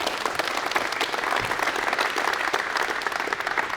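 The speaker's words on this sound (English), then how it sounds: "Round of applause to these guys." A room full of people at a basketball coaches clinic applauds the presenting coaches, with dense, steady clapping throughout and a faint crowd murmur.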